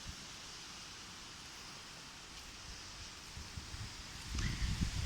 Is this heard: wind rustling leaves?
yes